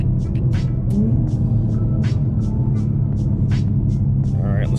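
A 2020 Toyota Supra fitted with a flex fuel E85 kit pulls hard in third gear, a steady, loud engine drone and road rumble from inside the cabin with brief voices over it.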